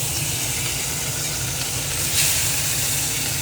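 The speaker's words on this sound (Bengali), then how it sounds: "এদিকে ভাত হচ্ছে, আজকে মাছ ভাজা" Fish fries in a pan in a home kitchen, giving a loud, steady sizzling hiss that carries on continuously, close by, with no talk over it.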